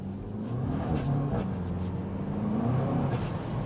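A 300bhp VW Scirocco engine rumbles with a deep, steady, droning note, close and moderately loud, holding near-constant revs with slight swells.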